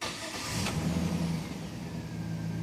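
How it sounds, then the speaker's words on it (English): A GM/Chevy truck engine with a hard-to-start fault cranks over, a brief rising mechanical churn with a low humming drone that settles into a steady rumble, close and moderately loud. "We'll crank again."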